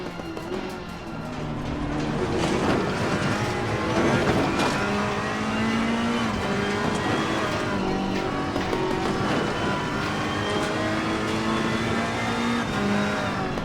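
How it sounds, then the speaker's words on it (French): Race cars, including Audi R8s, battle in a sim racing video game, with loud continuous engine drone and rising, shifting revs throughout, several cars close together and no talk. "L'Australien Nick Percat compte bien s'attaquer aux deux Audi R8 qui le devancent."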